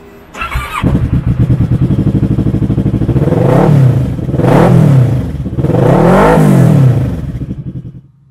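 A 2009 Kawasaki ER-6n 650 parallel-twin motorcycle starts up, settles into a steady idle, then is revved loudly in three rising and falling surges before cutting off, close and alone.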